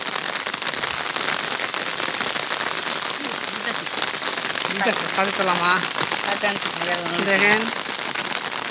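Rain falls steadily on a river beside a village road, a constant broadband hiss of drops, while someone speaks briefly over it near the end.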